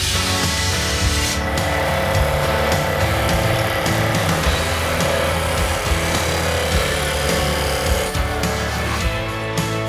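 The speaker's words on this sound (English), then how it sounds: "he's having to sand down all of the paint off of them" Steady, continuous power sanding strips three layers of old paint from wooden cabinet frame trim pieces. The gritty, abrasive noise runs close and loud without a break, with no talking.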